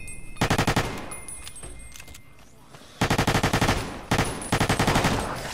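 M4 rifle fire in Fallout New Vegas, several loud rapid automatic bursts with short pauses between them and a faint voice in the background.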